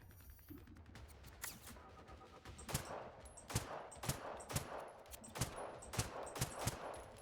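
Gunfire in the shooter Generation Zero: a rapid series of sharp, loud shots, irregular at first and then settling into a steady beat of single cracks, close by, with a faint mechanical clatter between them and no talking.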